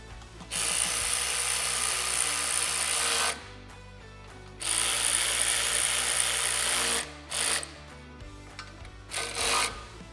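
A power driver runs in long whirring bursts while T40 bolts are driven into a SuperATV front bumper on a Polaris RZR XP, with several runs separated by short pauses, loud and close, with no talking.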